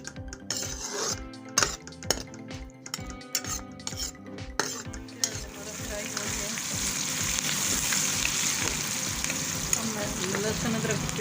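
Onions go into hot oil in a kitchen pan for an aloo methi sabzi, with metal spoon clinks and scraping first, then a steady rising sizzle of frying that fills the second half.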